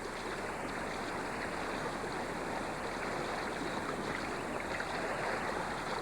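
A clear forest stream carrying migrating salmon makes a steady, unbroken rush and babble of running water, even in level throughout with no voices.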